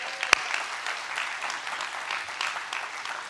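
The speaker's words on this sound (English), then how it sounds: "Let's give them a round of applause." A church congregation applauds the mothers during a Mother's Day service, steady crowd clapping throughout with one sharp louder clap near the start.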